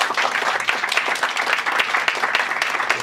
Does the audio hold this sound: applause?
yes